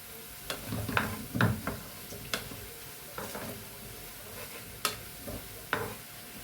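Okra bajji sizzle in hot ghee in a pan, a steady close crackle broken by occasional sharp clicks of stirring, with no voices.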